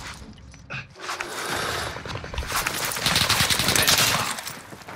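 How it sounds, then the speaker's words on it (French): Automatic gunfire in Modern Warfare's Rebirth Island mode: dense, rapid bursts that build and grow louder over the five seconds, with a brief dip near the start. "Y'a tout le monde qui me tire dessus, gros, tu entends?"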